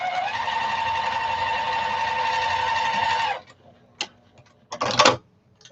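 Sewing machine top stitching a fabric shopping bag, running in a steady, close, buzzing whir for about three seconds, then stopping, followed by a few quiet clicks and handling taps.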